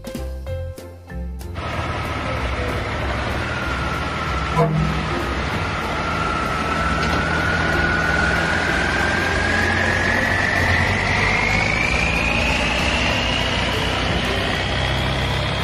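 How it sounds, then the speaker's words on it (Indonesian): A military truck engine idles steadily and close by, a continuous low rumble with a faint whine rising slowly in pitch, following a brief clatter at the start. "truk militer."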